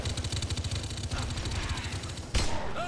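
Gunfire in Halo: Combat Evolved (SPV3) during a firefight, a rapid rhythmic stream of automatic shots close up, joined late by a sharp louder blast and swooping weapon tones.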